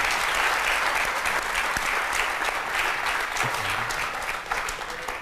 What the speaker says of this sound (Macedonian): еден аплауз за дебитантите. Огромен.